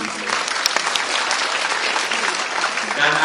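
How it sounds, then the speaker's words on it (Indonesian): A crowd applauds loudly for Indonesia's Public Works Minister at an event on national strategic projects, a thick, continuous burst of clapping with a few sharper claps near the start. "Tepuk tangan Menteri PU"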